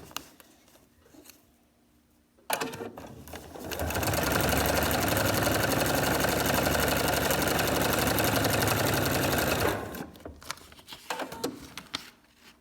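A sewing machine runs steadily for about six seconds while stitching a paper-pieced quilt block, starting and stopping cleanly with quiet handling before and after.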